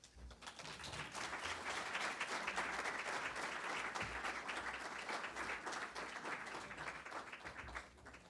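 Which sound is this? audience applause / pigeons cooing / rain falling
audience applause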